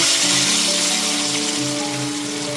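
Melon seed and cashew paste goes into a hot pan of oil, setting off a steady, close sizzling hiss that runs throughout over a faint, steady background hum.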